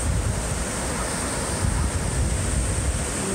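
Ocean waves break on a beach in a steady, loud, broadband wash of surf, mixed with wind rumble against the microphone, with no voices over it.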